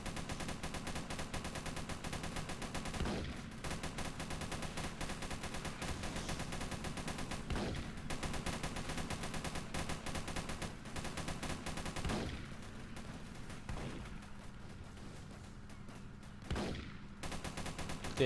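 A tank's slower-firing machine gun in the Roblox game Armored Patrol fires continuously in dense, loud bursts, with several sharper gunshot blasts standing out over the steady rattle.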